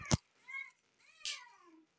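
A pet cat meows twice indoors, short nasal calls close by, each preceded by a sharp bump or click, with quiet gaps between.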